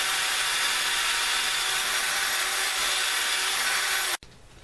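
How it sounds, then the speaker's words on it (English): Rough cut edges of wood held in a vise are rounded down with steady, continuous rasping or sanding, a loud dense scraping that runs for about four seconds and then stops abruptly. "I'll need to round the edges down some so it doesn't snag on it."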